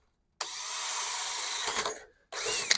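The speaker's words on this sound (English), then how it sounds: "So let's drill these babies out here" A power drill runs continuously at close range, whining steadily through fiberglass, stops briefly, then starts up again for a second burst.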